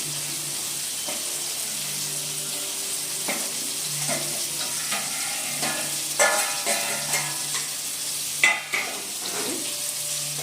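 Maggi noodles being stirred in boiling water in a pot, a steady bubbling and hiss with scattered soft scraping and clinks from the spoon, fairly close, no talking.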